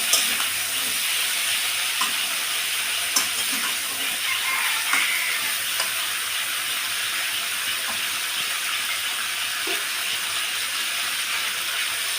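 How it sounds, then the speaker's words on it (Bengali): Water poured into a hot pan of mature vegetable stalks produces a continuous, even hiss and sizzle with a few faint clicks, close by and steady throughout. "দেখুন ঢাকনাটা তুলে নিলাম। এবার আমি দিয়ে দেবো পরিমাণ মতো জল।"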